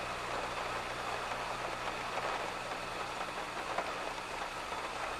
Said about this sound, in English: You think it'll rain like this all day?